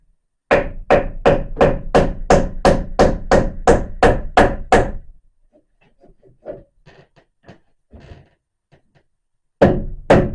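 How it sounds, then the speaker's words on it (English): About fifteen sharp, evenly spaced hammer blows strike a bathroom door frame through a hammering block, loud and close, followed by a few faint taps and shuffles, then two more hard hits at the end. "With my favorite hammering block."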